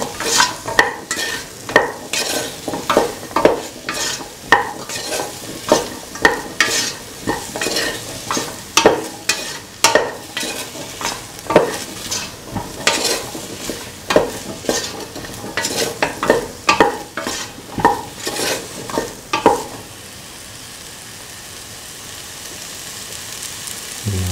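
Green chilies fry and are stirred in a pot, a loud crackling sizzle broken by repeated scraping strokes of the spoon, then settling to a quieter hiss.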